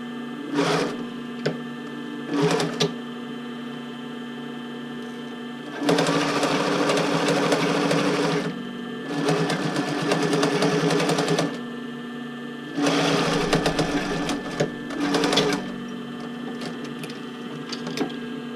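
Sewing machine stitching darts on a tank top, running in several bursts of steady mechanical whirring with short pauses and brief stitch taps between, close and loud with no talking.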